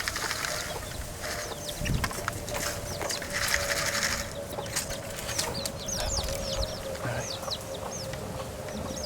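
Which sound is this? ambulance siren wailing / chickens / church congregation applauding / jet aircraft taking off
chickens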